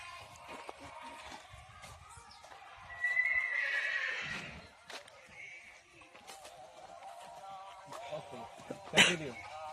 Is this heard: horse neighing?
yes